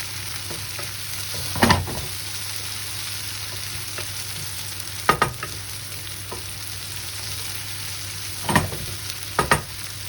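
Onions sizzle in a pan with a steady, close frying hiss, broken by a few brief scraping strokes of a utensil stirring and scrubbing the bottom; no one speaks.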